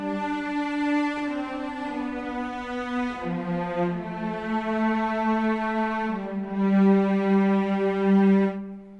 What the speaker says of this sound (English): When it comes to the legatos for cellos, it sounds like this.